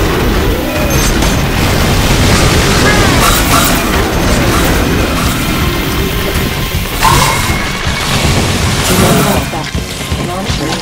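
A dynamite explosion in the zombie shooter Dead Nation, heard as a loud, dense, continuous roar of booming rumble and debris noise that fills the whole stretch without a break.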